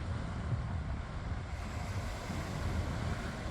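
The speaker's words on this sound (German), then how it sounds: "Und eine klasse Brandung." Rough sea surf breaking and splashing over shoreline stones at night, a steady loud wash of water with wind rumble and no pauses.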